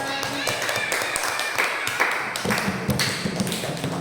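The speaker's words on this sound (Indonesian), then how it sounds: "Beri tepuk tangan." A second-grade class applauds a group's performance in the classroom, with brisk, dense clapping close by, some taps and thumps mixed in, and children's voices underneath.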